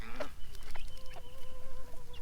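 Several chickens cluck and trill close by, with short rising calls and a steady scatter of soft clucks over a busy barnyard background, no talk.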